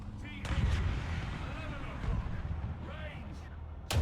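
Tank cannon shots in War Thunder, a combat video game, boom out loudly at the start and again at the end, with rumbling battle noise and a voice talking between them.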